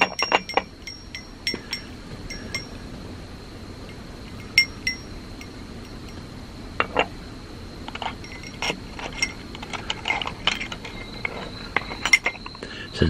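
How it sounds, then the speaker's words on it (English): Small witch's bells clink and tinkle softly while being handmade, with scattered light metallic chimes and jingles at irregular intervals against a quiet room background. "I'm trying not to make too much noise with these bells."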